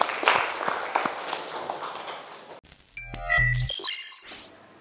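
A classroom of students claps briefly in the opening seconds, a quick scattered patter that fades out, then gives way to bright electronic chimes and tones.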